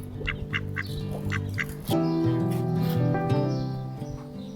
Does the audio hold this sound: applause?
no